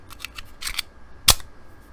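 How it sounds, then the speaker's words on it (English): A magazine going into a Norinco Type 54 Tokarev TT-33 pistol: a few light metallic clicks and handling taps, then one sharp, close snap as it seats. "I'll go ahead and insert the mag right here."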